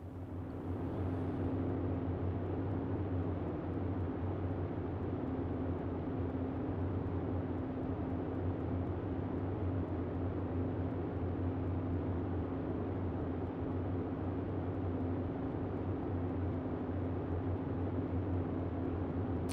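Boeing 247D twin piston engines droning steadily in flight in Microsoft Flight Simulator, a loud, constant low hum with a strong tonal drone that holds unchanged throughout.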